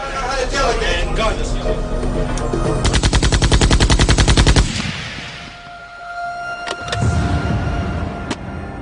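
Machine gun gunfire in a dramatized scene of an Irish mafia hit on a gangster in a car cab, heard as a rapid, loud burst of evenly spaced shots over a busy mix, then a lull and a couple of scattered sharp cracks.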